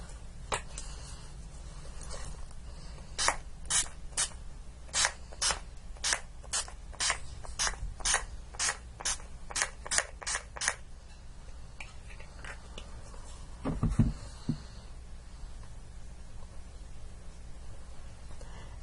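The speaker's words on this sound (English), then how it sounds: "So now I'm just going to be spraying everything again with the Urban Decay All Nighter Setting Spray Ultra Matte." A quick series of sharp setting spray pump bursts, Urban Decay All Nighter Ultra Matte, hisses close by, a dozen or so in an even rhythm, then stops. Faint rustling follows.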